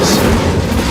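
An Incendio fire spell cast in Hogwarts Legacy gives a single short, loud booming whoosh of flame that fills the whole moment.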